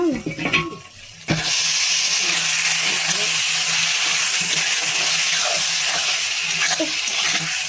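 Steam hisses loudly and steadily from a pot of cooking prawns and pointed gourd as its lid is lifted. A few clinks come first, then the hiss sizzles on without a break, close by.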